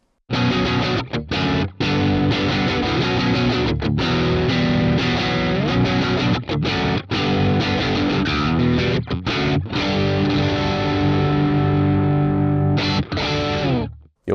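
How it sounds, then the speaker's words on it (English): Electric guitar runs through the Archetype Plini X amp simulator with gain pushed almost fully up, producing loud, saturated distorted riffs with brief choppy stops, ending in a sustained note that cuts off. "And now if I push it almost all the way up,"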